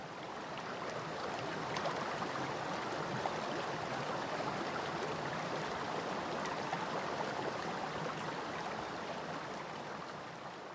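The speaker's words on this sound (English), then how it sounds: "just listen to the flow of water" A river flows steadily, with a continuous broad rush and babble of moving water held at an even, moderate level from start to finish, and no voices present.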